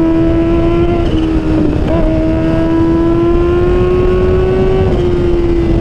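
A modified Kawasaki H2 motorcycle pulls hard under light throttle, its loud supercharged engine whine holding a steady rising tone with faint rushing wind, heard up close from the rider's position.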